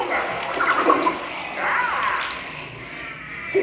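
Water sprays out over the audience during a Muppets theme park show at Disney's Hollywood Studios, a hissing, splashing gush that rises and falls while voices talk over it.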